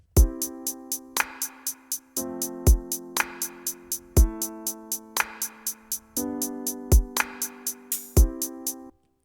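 A programmed drum beat loops steadily: kick and snare with a crisp hi-hat ticking throughout and an open hi-hat hissing on the off-beats.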